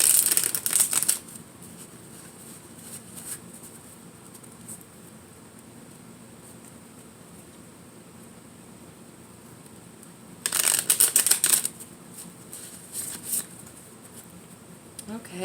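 Tarot cards are shuffled in two short, crisp riffling bursts separated by a long quiet pause, close and fairly loud against a soft room background.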